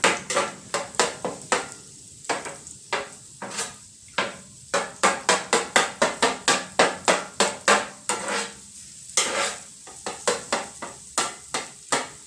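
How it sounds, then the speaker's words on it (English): Spatula chopping breakfast burrito filling in a hot pan, a steady run of sharp, close scraping knocks against the pan over a faint sizzle, with short pauses between bursts. "I'm going to flip it over. And I'm going to chop it down."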